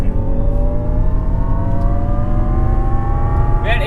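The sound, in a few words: Jaguar I-PACE electric SUV driving fast on race track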